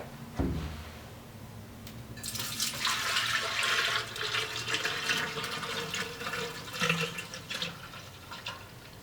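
Oil pours into a homemade bladesmithing quench tank after a thud, a loud continuous gushing stream that swells and fluctuates for several seconds, with no speech.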